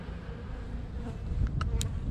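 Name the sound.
honey bees in a hive during spring inspection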